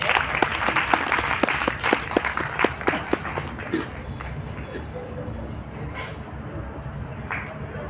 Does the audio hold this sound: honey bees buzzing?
no